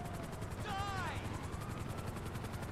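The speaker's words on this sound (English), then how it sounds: "4 helicopters in the air." Several helicopters hover overhead in a GTA 5 heist, a continuous rotor thump that steadies under faint game sounds, with a brief sweeping whistle partway through.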